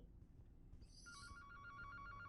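A telephone rings in a children's daycare video game, a bright electronic trill starting about a second in and repeating steadily over a low game ambience to the end.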